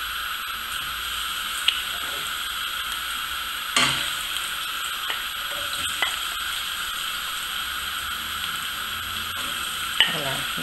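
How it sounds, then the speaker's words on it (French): Onions and tomatoes frying in olive oil, a steady close sizzle with occasional spoon clicks and stirring taps against the pan. "Nous allons faire revenir nos oignons et tomates, etc. à l'huile d'olive."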